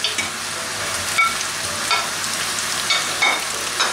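Peppers frying and being stirred in hot oil, a loud, steady close sizzle with small crackles throughout and no talk.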